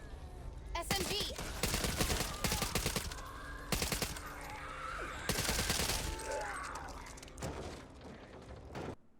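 Rapid SMG fire in the zombie shooter Back 4 Blood crackles in dense, repeated bursts among other loud game effects.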